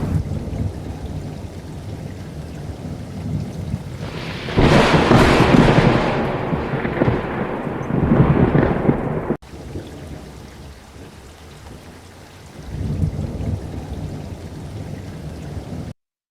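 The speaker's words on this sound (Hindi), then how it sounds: "एक रात अचानक जोरदार बारिश हुई।" Heavy rain falls steadily as a storm sound effect. A loud thunder crash rolls in partway through and fades, and a softer rumble of thunder follows later over the rain.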